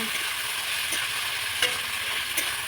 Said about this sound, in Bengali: এবার সুন্দর করে নাড়াচাড়া করব